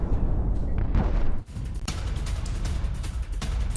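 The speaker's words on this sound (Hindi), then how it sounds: "कई जगहों पर धमाके की आवाजें सुनी गई हैं" Heavy booming blasts from missile strikes on residential areas of Tehran, a continuous loud rumbling roar with sharp impacts and a sudden drop partway through, no voices.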